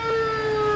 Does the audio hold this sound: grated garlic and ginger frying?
no